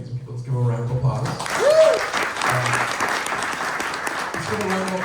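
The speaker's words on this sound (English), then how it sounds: "Let's give him a round of applause." Audience applause breaks out after a post-screening discussion of a documentary about the BQE, honoring the filmmaker; broadband clapping swells and holds steady, with a voice speaking over it at the start and end.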